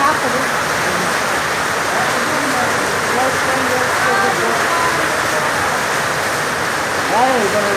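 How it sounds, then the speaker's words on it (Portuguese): Heavy rain pours down in a constant dense hiss, loud and close, with faint voices of people talking underneath. "Pode passar aí, pessoal, pra vocês verem a chuva."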